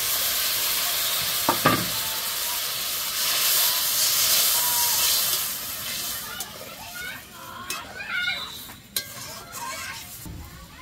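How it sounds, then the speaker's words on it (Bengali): Water poured into a pan of egg curry, setting off a loud, steady hiss and sizzle with rising steam that gradually settles into softer bubbling, with brief clinks of utensils and a voice speaking near the end. "ডিম কারিতে জল দিয়ে দিব।"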